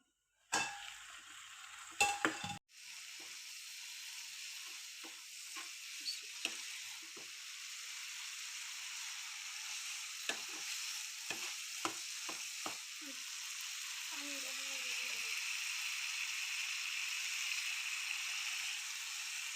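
Fish frying on a low flame under a lid, a soft continuous sizzle with occasional clinks and stirring taps from utensils, growing slightly fuller toward the end.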